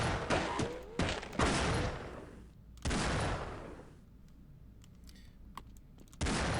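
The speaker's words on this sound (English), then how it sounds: "These guys react weird to certain types of gunshots." Gunfire in the video game Half-Life: several loud, sharp bursts of shots in quick volleys, separated by brief lulls with faint clicks and distant reports, no talking.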